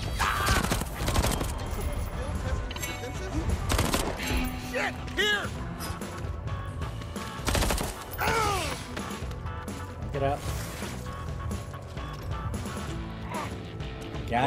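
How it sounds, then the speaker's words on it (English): Legendary pistols in Deathloop fire in quick, sharp bursts, with crashes and thuds of combat between volleys. A voice talks over parts of the fighting. "I'm using the legendary pistols right now"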